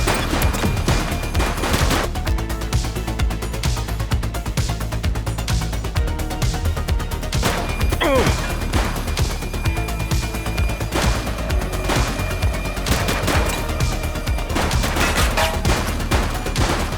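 Gunfire in the police video game The Precinct: rapid bursts and volleys of shots crackle almost continuously over a loud, dense backdrop, with sharp cracks standing out at intervals and no voices.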